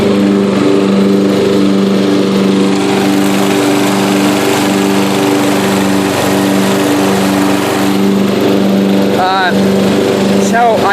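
A Yard King riding lawn mower with a freshly upgraded fuel system and new air filter runs loud and close while mowing, a constant chugging engine drone with a brief voice near the end.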